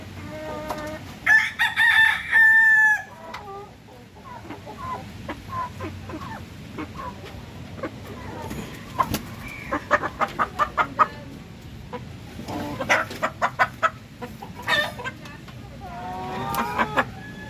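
Four-month-old Rhode Island Red chickens on a farm, clucking in short bursts with a few crows rising above a low background, some soft talk mixed in.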